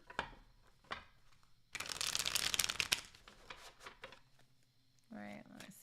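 A deck of tarot cards is shuffled during a reading, a short dense riffle of a second or so, with a voice briefly heard before and after.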